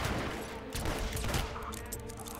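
Gunfire in the video game Hitman: Absolution, a dense burst of rapid shots crackling loud and continuous over about two seconds, with no talking.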